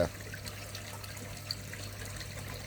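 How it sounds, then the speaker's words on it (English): Water gurgles steadily through a koi pond overflow outdoors, a soft continuous trickling wash with a low steady hum underneath. "overflow is gurgling away."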